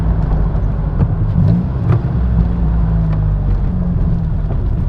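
A Morgan Plus 4 engine hums steadily from inside the moving car, with a low rumble of road noise throughout and no voices.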